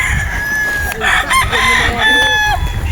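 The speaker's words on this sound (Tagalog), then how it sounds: "Ayun, oh, may mga manok doon." Chickens cluck and crow around a farm near a mango orchard, several bird calls rising over steady outdoor noise, with a person talking faintly in the background.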